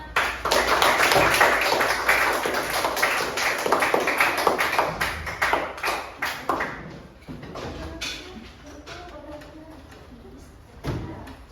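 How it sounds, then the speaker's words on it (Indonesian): Primary school children in a classroom clap for a classmate, rapid close clapping that is loud at first and thins out by the end, with a last brief burst. "kasih tepuk tangan dulu temannya"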